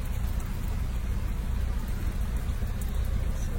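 Heavy UK summer rain pours down in a steady, dense hiss with no let-up, a continuous wash of falling water heard alone.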